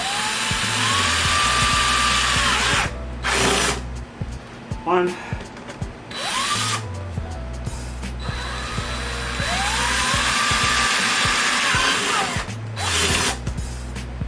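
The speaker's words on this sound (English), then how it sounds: "I'm gonna drill a hole for this battery cable" Power drill boring a hole through a DIY electric skateboard battery case, in several loud whirring bursts separated by short pauses, with people talking in between.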